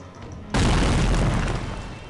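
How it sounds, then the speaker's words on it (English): A loud explosion from the video game Psychonauts hits suddenly with a heavy booming blast, then rumbles on and slowly fades over the next second and a half, with no speech. "That was a loud explosion noise."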